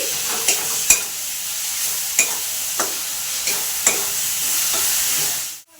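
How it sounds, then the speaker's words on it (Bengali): Spice paste frying in oil without water, steady close sizzling with a run of sharp spoon scrapes against the pan, ending abruptly. "আমি তেল দিয়ে এটাকে ভালো করে কষে নিচ্ছি"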